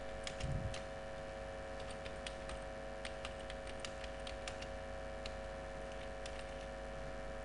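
Keys tap on a computer keyboard while text is typed into a Word document, light irregular clicks at close range over a constant hum, with no one talking.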